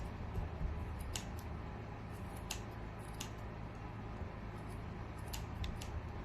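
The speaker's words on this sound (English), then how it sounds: "I like to kind of move my scissors along." Quiet, repeated snips of scissors trimming a yarn pompom, irregularly spaced over a low steady background hum.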